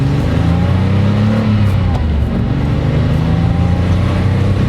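Loud, throaty exhaust burbling and revving close by from a 1987 Porsche 911 Carrera Cabriolet's air-cooled flat-six with aftermarket exhaust, a deep rumbling engine note that rises and falls without pause.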